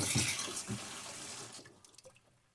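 Tap water runs into a bucket in a close, bright rushing pour that tapers off midway, leaving a few quiet drips and trickles at the end, with no voices.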